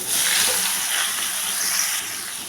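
Fenugreek and black cumin seeds hit hot oil for tempering, producing a bright, steady hiss and sizzle up close that eases slightly toward the end.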